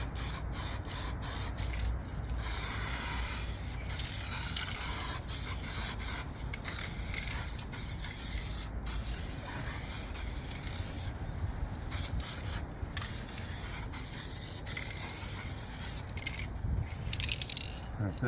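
Aerosol adhesion promoter and primer hiss in steady bursts onto an FMS 1500mm P47 Bonnie foam model plane, a continuous close spray broken by brief pauses, with faint voices now and then.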